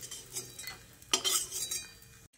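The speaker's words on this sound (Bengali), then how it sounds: "এবার বড়িগুলোকে তুলে নিচ্ছি।" A spoon scrapes and clinks against a pan while lifting out fried lentil dumplings browned over high heat, with scattered metallic taps over a low sizzle before it cuts off abruptly.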